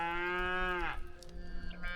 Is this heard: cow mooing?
yes